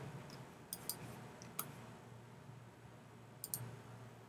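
Computer mouse clicks sharply a few times, quiet isolated ticks including a quick double click, over faint room hum with no talk.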